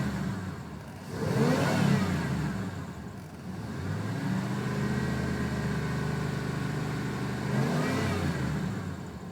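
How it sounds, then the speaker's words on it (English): A 1993 Chevrolet Silverado 4x4 pickup with 136,347 miles idles and is revved: the engine climbs in pitch and loudness, settles into a steady drone, then rises again near the end, close and clear with no talking. "Give it some gas, you can listen to it"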